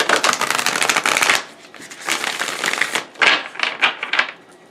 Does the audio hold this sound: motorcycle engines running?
no